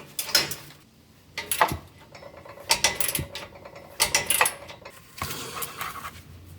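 Torque wrench ratcheting in quick bursts while tightening engine header bolts, close and crisp, several separate runs of clicking with short pauses between.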